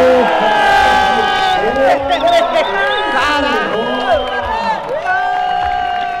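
A crowd at a skateboarding competition, STU RJ 2021 in Rio de Janeiro, erupts in cheers and whoops, loud and close, with excited voices shouting through the swelling roar.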